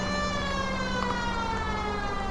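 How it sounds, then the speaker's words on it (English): A police car siren in the video game L.A. Noire wails steadily and loudly, its rising and falling tone continuous throughout over a low engine hum. "Use the siren until we get close"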